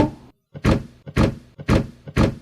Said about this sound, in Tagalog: o di kaya ay pumatyak gaya nito